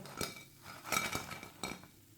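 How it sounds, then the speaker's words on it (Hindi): Minced-meat kebabs set onto a plate with a few close, sharp clinks and scrapes of cutlery against dishware, spaced through a short moment with no voices. "इसे प्लेट में डाल लेंगे"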